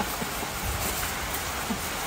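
Steady rain falls continuously as a dense, even hiss with occasional soft drops, moderately loud and without talk.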